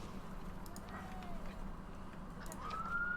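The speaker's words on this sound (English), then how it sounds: "Sorry about the sirens." An emergency vehicle siren outdoors, faint and distant, with a rising wail toward the end under a low steady background hum.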